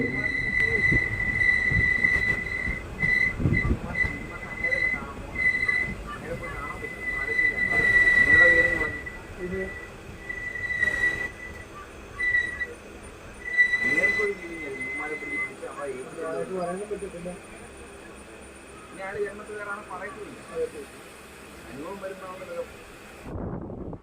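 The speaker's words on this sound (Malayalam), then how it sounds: "അങ്ങനെ ട്രെയിൻ ഇപ്പോൾ ഏഴുപുന്ന എന്ന റെയിൽവേ സ്റ്റേഷനിലേക്കാണ് ഇപ്പോൾ എത്തിയിട്ടുള്ളത്" Passenger train rolling into Ezhupunna railway station in Alappuzha, a steady rumble of wheels and carriages with a sustained high tone running through, while a person talks over it throughout.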